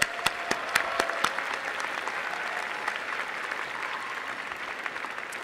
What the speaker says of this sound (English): Let's give a big round of applause for our nuclear engineering graduates.